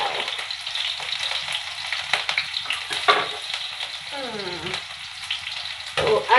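Hot dal spatters and sizzles in a pan on a home stove, a steady bright frying hiss broken by sharper pops and a few stirring scrapes, close and fairly loud throughout.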